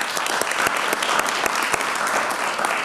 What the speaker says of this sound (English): So let's give Key a round of applause.